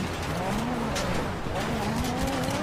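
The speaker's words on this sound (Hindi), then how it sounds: "जीटीआर चला रहा हूं" A Nissan GT-R is driven hard in GTA NoPixel, its engine revving up and down in rising, falling whines over steady road noise, loud and close.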